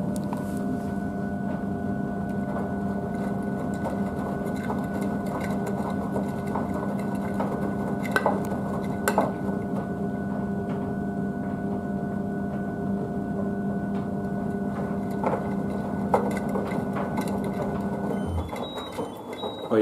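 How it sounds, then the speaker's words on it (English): A Blomberg TK tumble dryer on cooldown, tumbling mixed towels and a bathmat, a steady mechanical whir with a constant hum and occasional faint knocks from the drum, running alone for the whole stretch. "the Blomberg TK average 50 is on the cooldown now"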